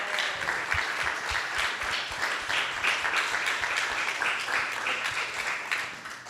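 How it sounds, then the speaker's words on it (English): Sustained audience applause after a talk on the qualities of a guru, with dense, steady clapping throughout and no one speaking over it. "Please give a big round of applause to Yugal Kishore Prabhu."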